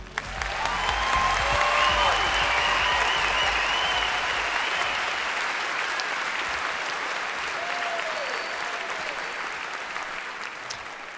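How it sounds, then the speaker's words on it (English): An audience at a fashion show applauds, steady loud clapping swelling quickly and then slowly fading, with a few cheers and faint voices in the crowd. "How about one more round of applause for everyone?"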